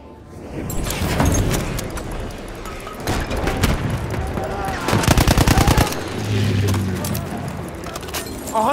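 Automatic machine gun fire in the Battlefield 1 video game, with a dense rapid burst of shots around the middle standing out over a busy battlefield mix of other gunfire and booms, loud and close.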